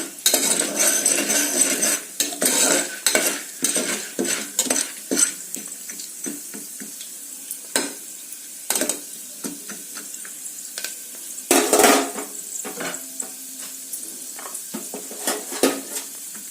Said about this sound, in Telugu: కొంచెం ఉప్పు యాడ్ చేసుకోవాలి, కొంచెం ఫ్రై అవ్వాలి.